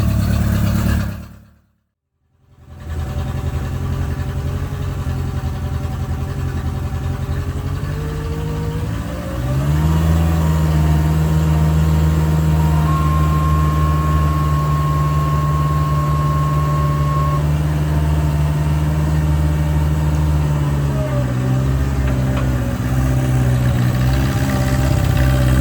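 A mower with a 72-inch hydraulic deck idles loud and close, a steady low drone that briefly cuts out near the start, then settles into a higher, heavier running hum.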